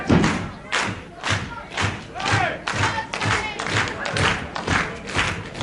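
A wrestling crowd at a World of Sport bout keeps up a slow, steady hand clap, loud, regular thuds about every half second over a busy hall murmur with shouts.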